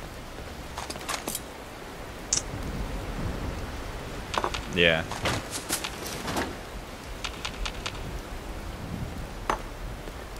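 Steady rain falling in the Fallout 76 video game near a campfire, a constant hiss under the action with scattered clicks and game sounds, and a voice speaking briefly.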